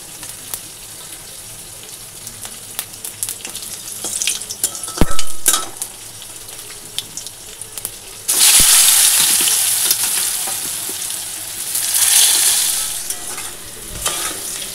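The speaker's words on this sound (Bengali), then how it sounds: "এখানে তেল দিয়ে একেবারে ফোড়ন দিয়ে আলুটা বসিয়ে দেবো" Potatoes fry in hot oil tempered with whole garam masala and cumin, a loud close sizzle that surges after a quieter start, with bursts of stirring and scraping and no talking.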